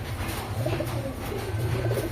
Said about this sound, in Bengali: এখানে দেখো একটা কামাগার পায়রা রয়েছে